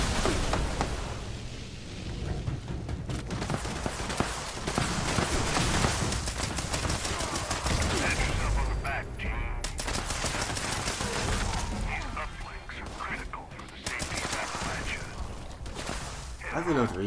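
Gunfire from weapons in the video game Fallout 76 during a daily ops mission, dense and near-continuous shots and bursts running the whole length, with a voice talking over parts of it.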